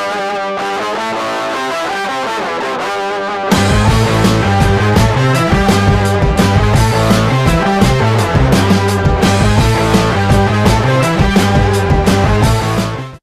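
A distorted guitar riff, a quiet intro giving way to a loud, dense full-band section with a higher octave layered above the driving riff, steady and rhythmic with no talk.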